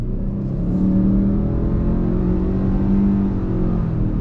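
A 2021 Subaru Ascent midsize SUV accelerates under throttle onto a frontage road, its engine holding a steady low drone and drawn-out hum beneath constant road and wind rumble from inside the cabin.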